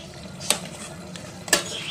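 Chicken is stirred and turned in a kadai: two distinct metallic scrapes and clanks of a spoon against the pan over a low, steady background, with no voices.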